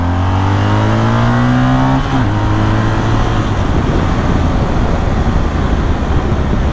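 A BMW R 1250 GS motorcycle engine pulling hard in 4th gear out of a corner: a loud, close, steady drone that climbs in pitch, briefly dips around two seconds in, then keeps rising amid rushing wind noise.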